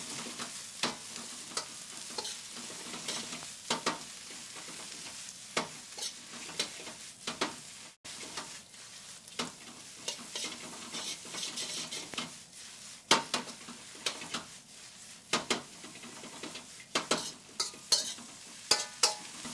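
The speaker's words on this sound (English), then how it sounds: "Take our spoon and stir fry it." Continuous sizzling of vegetables in a hot pan, with repeated scraping and clinking of a spoon against the metal as they are tossed and stir-fried.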